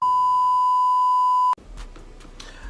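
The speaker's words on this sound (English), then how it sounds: "My phone was saying that I had low memory" Steady electronic phone alert tone warning of low memory, a single continuous beep holding loud and even for about a second and a half before cutting off abruptly into quiet room noise.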